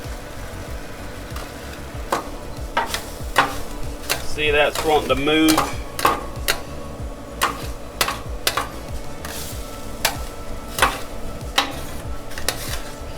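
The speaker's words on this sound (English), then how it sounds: "You hear that sizzle" Butter and duck eggs sizzle on a hot griddle under sharp clicks and scrapes of a metal spatula, with a person speaking briefly midway.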